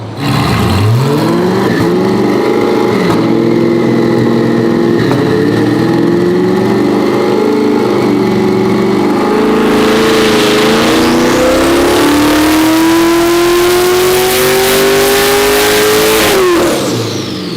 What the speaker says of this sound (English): Let's go to 65 and see what we get before we actually throw the kill tune on.